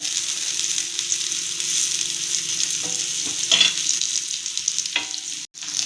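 Fish frying on a flat tawa for a fish kulambu, a steady close sizzle with occasional crackles and a few scraping turns, sounding alone with no talk.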